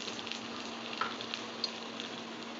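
Chopped garlic fries in hot oil with a steady, close, even sizzle and a few faint crackles, no voices over it.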